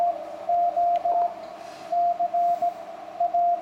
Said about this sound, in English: Just pulls that CW station out of the noise.